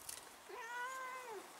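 A house cat gives a single drawn-out meow, rising and then falling, clear and close in a quiet room while waiting for squishy food.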